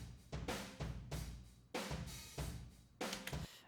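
A drum kit picked up by a far room microphone, with regular punchy hits recurring about every second and a half, each bright broadband crash fading between strikes, fairly close and dry sounding.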